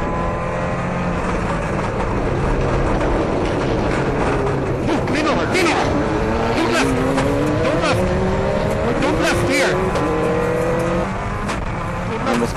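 A Ford Escort World Rally car races a stage at the 2003 Eurocables Stages Rally, its engine loud and close, revving up and down through gear changes with rising and falling pitch.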